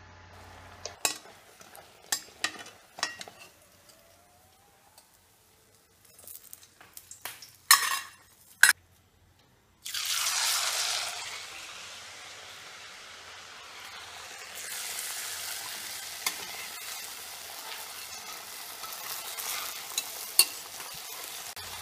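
Rice pathiri, a Kerala rice flatbread, frying in oil in a pan: scattered clinks and utensil knocks first, then a steady, fairly loud sizzle that continues to the end, with no talking.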